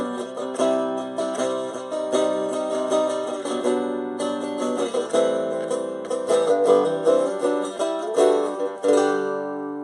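An unplugged guitar with a piezo disc pickup, strummed acoustically in a minor key: close, ringing chords repeatedly plucked and strummed in an uneven rhythm over about ten seconds, with no talking.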